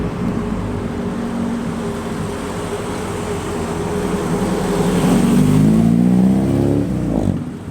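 A car with a Honda K20C3 engine drives past, its engine note rising and swelling louder toward a peak near the end and then fading. There is no talk.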